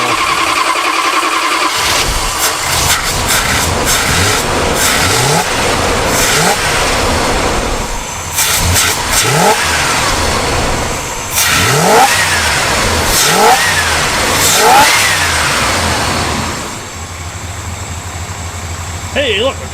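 Car engine fitted with a new Holley carburetor cranks and catches, then settles into a steady idle broken by several sharp revs, loud and close, with people talking over it throughout.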